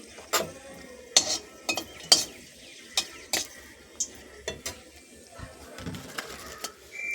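Dried red chilies fry in hot oil with a quiet sizzle, punctuated by a series of sharp pops and crackles at irregular intervals, while birds call faintly in the background.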